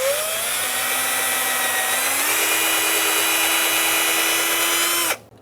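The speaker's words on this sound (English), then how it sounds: "if you have an attachment like this on a drill, it makes your life easier" A power drill with a cleaning attachment whirs steadily at high speed while cleaning brake parts on a 2000-2007 Ford Taurus, its pitch shifting slightly partway through, then cuts off abruptly near the end.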